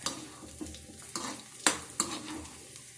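Raisins frying in hot oil in a kadai while poha chiwda is being made. A soft sizzle runs throughout, broken by a few sharp stirring scrapes and clinks of a spoon against the pan.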